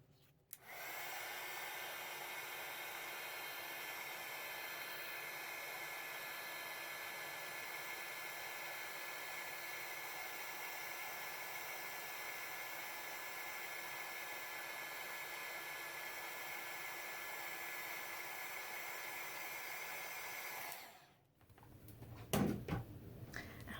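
A heat tool melts embossing powder on a stamped card, giving a steady loud blowing whoosh that runs unbroken for about twenty seconds before cutting off, followed by faint handling sounds.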